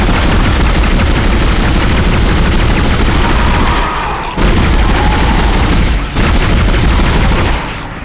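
Rapid, dense gunfire in the horror game Dead Space, a loud continuous barrage with two brief breaks, filling the whole stretch.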